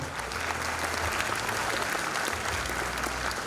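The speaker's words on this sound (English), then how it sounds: "So again, please big round of applause for our Babuji, our founder." A college engineering inauguration audience gives a steady, full round of applause for the institution's founder, many hands clapping continuously at even loudness.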